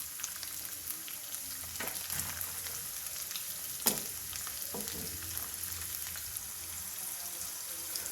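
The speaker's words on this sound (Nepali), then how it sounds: "अब हामी यसमा प्याज हाल्दै छौं।" Onions sizzle in a pan of ginger-garlic paste for a dhaba-style chicken curry, a steady crackling hiss broken by a few sharp spatters and stirring clinks.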